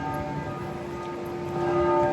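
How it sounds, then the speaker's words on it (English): Bells toll close by on a city street, a steady sustained ringing with lingering overtones that swells slightly toward the end, alone with no talking. "They're tolling bells."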